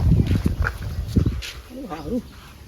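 Someone shouts sharply to chase off a dog, and the dog answers with a brief whine close by.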